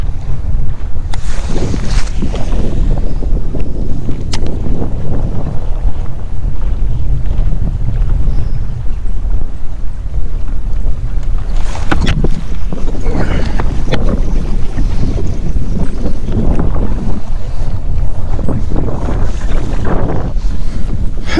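Strong wind blows across a main lake, heard from a fishing boat as a loud, steady roaring rumble with gusty buffeting against the microphone and no talking.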